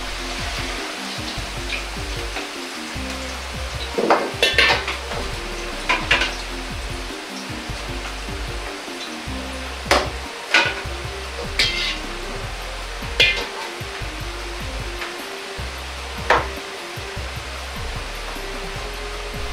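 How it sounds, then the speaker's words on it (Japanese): Taro pieces deep-frying in hot oil, a dense steady sizzle with occasional sharper pops and bursts rising above the bubbling, close and continuous. "じっくりと3分くらい火を通し、こんがりとした色になったら油から揚げます"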